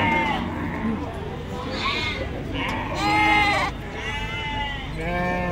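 Sheep and goats bleat repeatedly at a livestock market, Pasar Wage in Bumiayu, where traders arrive to buy cattle, buffalo and goats. The wavering cries overlap close by amid constant crowd noise and people talking.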